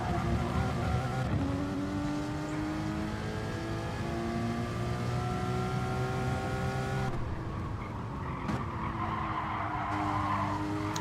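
A race car in the game GT Sport at the Red Bull Ring short layout drops down to second gear, its loud engine note sliding downward with revving. A sharp tire squeal and skid follow near the end.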